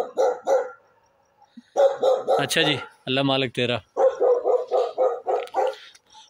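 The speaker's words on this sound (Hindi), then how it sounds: "पूरे गांव के इर्द गिर्द जो है वो सिर्फ और सिर्फ कुत्तों की आवाज़ें आती हैं" A dog in a village at night barks repeatedly and loudly, nearby, in quick rhythmic bursts with a few yips, while someone speaks briefly between the barks.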